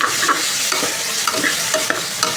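Potatoes frying in a pan, a loud, constant sizzle broken by repeated scraping and clacking as they are stirred.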